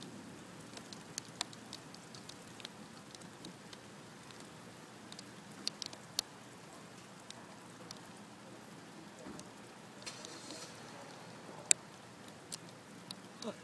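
Rain from a severe thunderstorm at sunset falls steadily in a soft, constant patter, with sharp scattered drop ticks. It stays fairly faint and distant throughout.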